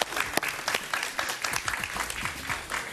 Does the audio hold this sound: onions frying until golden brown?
no